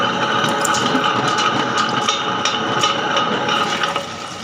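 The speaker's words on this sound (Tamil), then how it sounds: "நம்ம மிஷினை ஆன் பண்ணிவிட்டு லைட்டாக ஐஸ் வாட்டர்" Ice water poured into a running wet grinder full of idli batter, a loud steady churning whir with a splashing, gurgling fill layered on top, easing slightly at the end.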